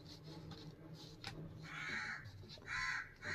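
A crow caws outdoors in two harsh, drawn-out calls, close and fairly loud over a low background hum, with a shorter sharp note just before the first caw.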